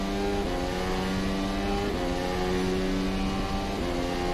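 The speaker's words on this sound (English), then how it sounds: "Let's see what this car is able to do on the straight line with full power then." A Zakspeed Formula race car in rFactor 2 at Montreal accelerates at full power on a straight, its engine note rising steadily through the gears in a loud, continuous whine with brief shift dips.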